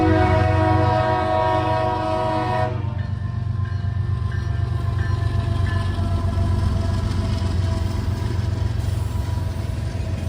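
A CSX freight train led by Atlantic Coast Line heritage unit 1871 sounds a loud, sustained horn chord for nearly three seconds, then rolls past with steady engine rumble and wheel noise that fills the rest of the clip.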